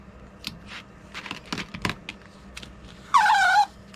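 Scattered soft clicks and handling taps, then a sharp half-second rasping snip as plastic washi-style tape is cut with scissors during diamond painting work, close and clear with no talking.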